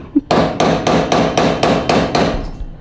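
Ball peen hammer strikes metal in a garage about eight times in a steady, even rhythm, loud and close, with no voices.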